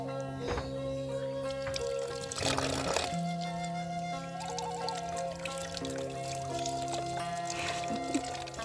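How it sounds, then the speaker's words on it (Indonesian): Cassava being washed in water, with steady splashing and trickling over a low hum and faint tonal music, the water sounds close and continuous throughout. "Kita mau cuci dulu ya singkongnya ya."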